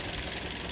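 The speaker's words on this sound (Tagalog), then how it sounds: "napakatahimik na kanyang makina" A 2016 Toyota Vios E car engine idles with a steady, even hum and faint mechanical ticking, a brief close recording with no one talking.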